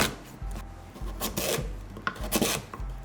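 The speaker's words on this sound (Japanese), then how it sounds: "さつまいも半分に切ってだいたいね5ミリ幅ぐらいのいちょう切りにしていきます" A knife slices a halved sweet potato into quarter-round pieces about 5 mm thick, giving close, repeated cutting thuds and rasping strokes at an uneven rhythm.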